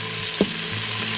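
Steak sears in an Instant Pot, a steady loud sizzle and crackle of frying meat with one short clunk partway through, no talking.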